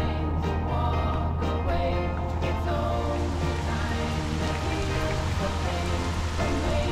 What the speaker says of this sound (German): Jetzt sind wir mal richtig drin in so einem Guss.